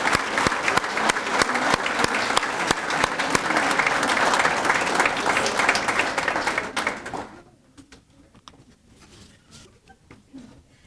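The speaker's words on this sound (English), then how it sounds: "let's give these graduates a huge round of applause" Crowd at a 2019 academy graduation ceremony claps loudly for the graduates, a dense wash of applause that fades out around seven seconds into near quiet with faint scattered sounds.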